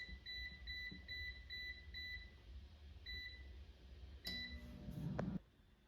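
An air fryer finishing a batch of Brazilian cheese bread gives a string of short, evenly spaced electronic beeps, clear and close, followed by a brief clatter as it is opened.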